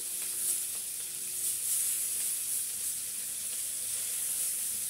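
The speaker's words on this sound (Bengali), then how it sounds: "এপিটুপিট উল্টিয়ে আমি মাছটা ভেজে নিচ্ছি" Fish fries in hot oil in a pan, giving a steady, even sizzle and hiss that runs throughout without any voices.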